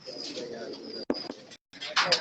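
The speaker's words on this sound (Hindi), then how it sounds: "ये ब्लैक बुरसे कबूतर भी आपको दिखा रहे हैं।" Black pigeons coo softly in a loft, a low warbling call repeated over a short stretch with some background bustle and a brief gap of quiet.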